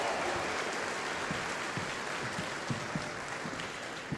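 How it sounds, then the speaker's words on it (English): Audience applause fills a large hall at the Pokémon World Championships in Hawaii, a steady, dense wash of many hands clapping at moderate distance that holds evenly before tapering slightly. "So please, one more round of applause for that amazing Hawaiian welcome."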